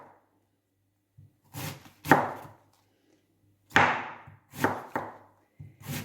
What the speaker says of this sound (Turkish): nə qədər incə doğrasanız, o qədər yaxşıdır